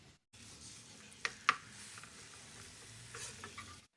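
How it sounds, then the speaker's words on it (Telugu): Cauliflower pieces frying in hot oil on high heat give a faint, steady sizzle, broken by a couple of sharp clinks from stirring. "ఈ కాలీఫ్లవర్ పీసెస్ని ఈ ఆయిల్లో వేసేసి స్టవ్ హైలో పెట్టుకొని ఒక 3 నిమిషాలు వేయించుకుందాము."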